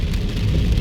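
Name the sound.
rain falling on car while driving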